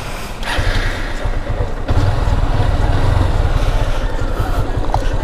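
A Honda motorcycle engine starts and settles into a steady, loud low-pitched running rumble that fills the clip, with a person talking in Bengali over it.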